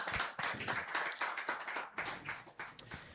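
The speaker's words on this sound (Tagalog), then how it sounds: "Pwede ba isa muna malakas sa palakpak para kay Lord dyan?" Enthusiastic clapping from a church congregation during a sermon, uneven bursts of many hands with sharp individual claps standing out, fairly close and moderately loud, no talking.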